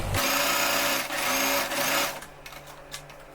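A sewing machine stitches a fabric strip onto a homemade cloth face mask, whirring loudly and continuously in two close runs with a brief dip between them, then stopping and leaving quieter handling noises.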